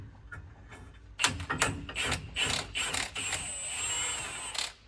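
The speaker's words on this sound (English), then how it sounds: "we can take this bolt out" A bolt being worked out of a truck's cross member, with a series of close metallic scraping, rubbing and ratcheting sounds in short bursts, followed by a steadier grinding stretch, with no speech.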